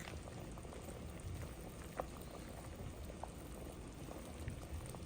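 Chicken feet soup bubbles in a pot on the stove, a continuous soft rolling boil with faint pops and burbles, fairly quiet and close, no voices.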